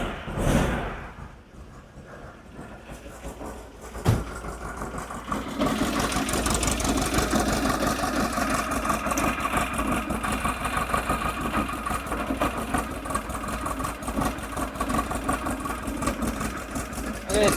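A car engine fitted with Weber IDF carburetors idles at close range, its steady, slightly uneven running note rising after a brief thump at about four seconds and holding beside a spinning pulley.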